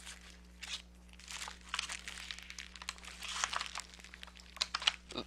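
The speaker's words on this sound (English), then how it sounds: "Now I'll mix the two-part silicone in the plastic baggie." A plastic baggie crinkles and crunches in irregular bursts while two-part silicone is mixed inside it with a plastic knife, close and quiet, with a low steady hum beneath and no talk.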